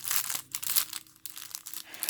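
Crafting embellishments are pulled from a plastic bag, giving close, irregular crinkling and rustling bursts over a couple of seconds.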